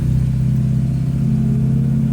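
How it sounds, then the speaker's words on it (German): A BMW 507 with a four-speed gearbox engaged in gear and setting off slowly, its engine a steady, loud low-pitched drone close by, with no voices. "jetzt legen wir den Gang ein und fahren langsam los"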